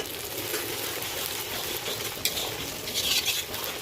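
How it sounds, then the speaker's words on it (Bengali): Spices, ginger and cumin paste, and chilli paste sizzle and fry in a pan for jackfruit curry, with steady crackling and soft stirring scrapes, fairly faint, and nobody talking. "এই মশলাগুলো এখন একটু ভালোভাবে কষিয়ে নেব।"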